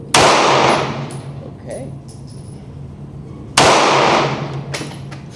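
Two sharp, loud gunshots from a snub-nose revolver ring out at an outdoor shooting range, spaced a few seconds apart, each with a decaying tail, and a voice speaks briefly between them.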